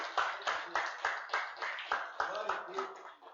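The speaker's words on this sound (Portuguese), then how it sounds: "Aplauda o Senhor Jesus" A church congregation claps in worship, a steady rhythmic beat of many hands about twice a second, with voices mixed in under the clapping.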